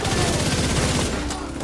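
Automated turret in The Division 2 firing in steady rapid bursts, loud and close, with a dense layer of other gunfire and game noise running throughout and easing slightly toward the end.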